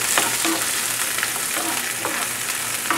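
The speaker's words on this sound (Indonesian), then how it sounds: "kita tumis di sini bawang. Kita tumis bawangnya sampai benar-benar agak kecoklatan ya" Onions sautéing in a hot pan for soup, a loud, dense, crackling sizzle that runs without a break, with faint scraping stirs now and then, close up and without any voices.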